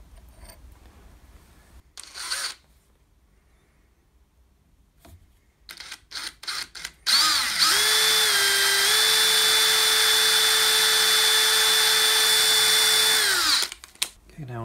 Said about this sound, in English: So let's drill and thread that, get a bolt in